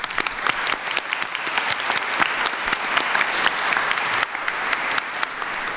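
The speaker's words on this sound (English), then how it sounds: "Let's give them a well-deserved round of applause" An audience at an honors convocation applauds, dense and sustained clapping from a large indoor crowd that stays loud and steady throughout.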